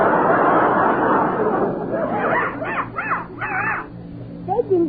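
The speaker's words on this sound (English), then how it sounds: "It's still barking." A dog barks a few times in quick succession after a stretch of broadband noise, the barks moderately loud and followed by a short bright yelp.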